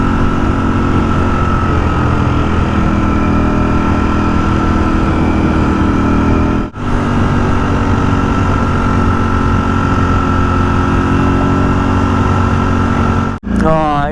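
A 2023 Ducati Streetfighter V4S being ridden across the Harbour Bridge, its engine droning steadily and loudly under rushing wind, with two brief drops in sound.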